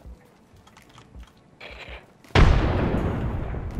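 Frag grenade in Apex Legends: a few quiet clicks and shuffles, then one sudden loud explosion whose rumbling blast trails off over the next second or so, with no voices.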